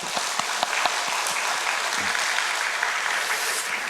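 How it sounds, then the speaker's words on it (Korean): A church congregation applauds its group leaders with steady, even clapping and a few sharper claps standing out, filling the room for several seconds without speech. "우리 격려의 박수 한번 드리겠습니다"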